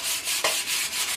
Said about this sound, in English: Just gonna finish up sanding the handle a little bit more